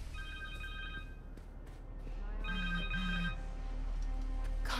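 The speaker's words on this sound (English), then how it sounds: "Phone." Phone ringing in the video game Marvel's Spider-Man 2, a faint repeating electronic ringtone of a few short tonal bursts over a low background hum.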